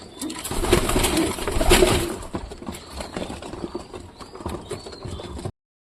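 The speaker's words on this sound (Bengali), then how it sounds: "তো দেখতেই তো পারলে যেই কবুতরগুলো আসছে সুন্দর সুন্দর" Pigeons coo softly in low, throaty bursts nearby, mixed with fluttering and scattered background clatter, louder early on.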